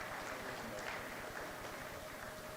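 Audience at the Agric Summit Africa 2025 conference applauding, a dense, continuous wash of clapping from a crowd, moderately distant and fairly faint.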